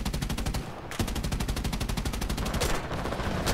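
Aircraft 20mm cannon fire in the video game War Thunder: loud, rapid, evenly spaced bursts hammer away almost without a break, with one brief pause near the start before the stream resumes.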